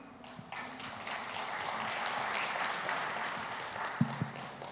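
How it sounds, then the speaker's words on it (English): Audience applause at the end of a game-design talk, a steady wash of many hands clapping at moderate distance, with a few sharper taps standing out near the end. "Can we have another round of applause just for Joe?"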